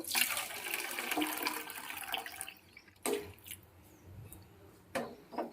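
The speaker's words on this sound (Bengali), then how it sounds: "এর মধ্যে ডালটা গলবে না তাই বেশি পরিমাণ জলটাই ঢেলে রেখে দেব" Water poured into a cooking pot of lentils for dal paneer, a steady splashing stream for about two and a half seconds, then a few separate drips and splashes close by.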